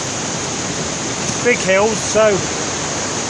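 Waterfall near the Cadair Idris tea room, a steady broad rushing of falling water heard close and continuous, with someone talking briefly over it.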